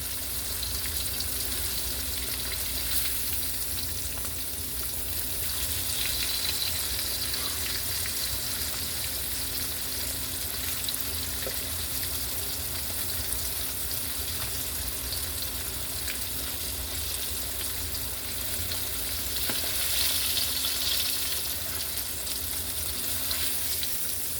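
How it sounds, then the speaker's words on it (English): Catfish fries in hot oil with a steady, close, continuous sizzle and bubbling that holds level throughout, with no talk. "I'm glad the oil's not spitting at me."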